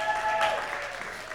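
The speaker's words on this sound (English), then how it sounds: "Let's give it up for them" Audience applause at a community celebration, a moderate patter of clapping with a faint voice over it and a brief tonal sound near the start.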